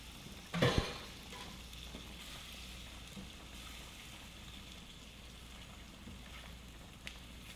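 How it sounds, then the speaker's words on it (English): A steady, quiet sizzle of meat frying in a pan, with a brief clatter near the start. "Then I just add it right back to the frying pan with the meat"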